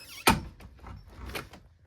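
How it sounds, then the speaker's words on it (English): A door slide striker latches on a popup camper toy hauler conversion, giving one sharp close thunk followed by fainter rattling knocks, close by with no talking. "got your nice door slide or striker, and you can take and lock it up nice and tight, not much jiggle"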